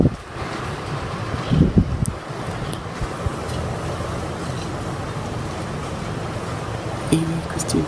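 Strong mistral wind during a winter storm in Montoison, a steady roaring rush buffeting the microphone, with brief gusts and knocks near the start and end.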